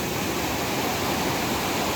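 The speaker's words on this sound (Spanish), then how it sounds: "El río está justo acá." A river flows beside a jungle camp in Indonesia, a steady, loud broadband rush of water that fills the whole stretch without pause, with no voices over it.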